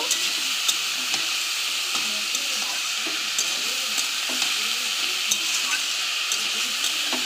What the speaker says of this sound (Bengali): একটু আলুটা ভাজা ভাজা করে নেব।